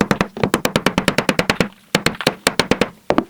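Rapid, steady hammer blows drive a WallClaw anchor into drywall, about twenty sharp close knocks in quick rhythm with one brief pause partway through, loud and without talk.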